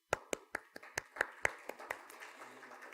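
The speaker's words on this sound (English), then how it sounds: "I would like to applaud you." About a dozen sharp, distinct claps from a small group at a volunteer orientation, in a fairly quick, steady rhythm, quiet and thinning out as they fade.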